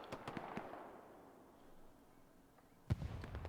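A rocket explosion in the Hell Let Loose war game: a few sharp distant pops at the start fade into a low rumble, then a sudden loud booming blast hits near the end.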